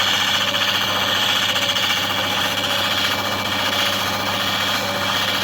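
An Andamooka opal pressed against a spinning lapidary cutting wheel gives a continuous loud grinding hum with a steady mechanical drone and no pauses.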